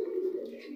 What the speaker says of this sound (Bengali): এই লফটি হচ্ছে একটি দেশি কবুতর লফ